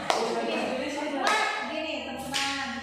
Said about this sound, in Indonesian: Gini, tepuk tangan.